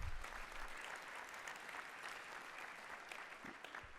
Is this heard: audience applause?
yes